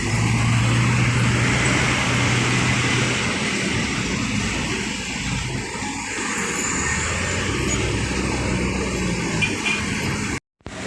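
Road traffic in a jam on a long-distance bus route from Palembang toward Java, a steady rumble of idling and creeping engines with broad roadway hiss, fairly loud and continuous until cutting off at the end.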